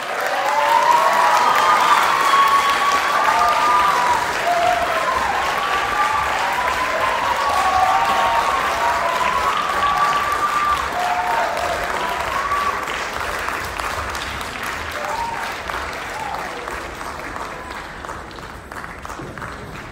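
An audience at the World Choir Games gives sustained, dense applause to welcome a junior high school choir from Taiwan, loud at first and slowly thinning toward the end, with faint cheering mixed in.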